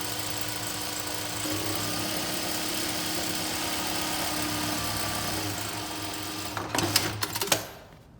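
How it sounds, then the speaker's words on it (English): A sewing machine stitches the handle of a tote bag, a steady whirring hum with a fast mechanical pulse running throughout, ending in a few louder clunks as the stitching stops. "You stitch the handle, both sides."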